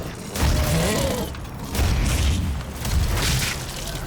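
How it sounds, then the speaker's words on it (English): Rocket launcher blasts in the Doom video game, with several heavy booming explosions in succession, each a loud low burst with a short rumbling tail. "So I should just kill everybody with my rocket launcher."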